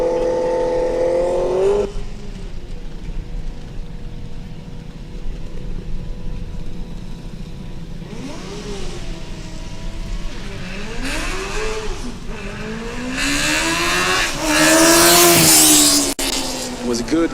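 A Formula Student race car launches from a standing start in an acceleration event, its engine note rising in pitch through revs and swelling louder as it nears, with a gear change hesitation; an announcer talks over much of it.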